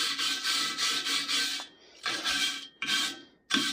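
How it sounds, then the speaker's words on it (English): Rust is scraped off the inside of a steel plow tire rim in long, harsh rasping strokes, close and loud, in several bursts separated by short pauses. "Cleaning this rust off the rim on the inside so we can get the tire back on."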